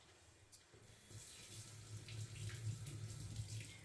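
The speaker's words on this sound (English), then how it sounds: "So I'm going to rinse this off" Tap water runs into a kitchen sink while an organic apple is rinsed under it, a steady close splash that swells louder after the first second and continues without speech.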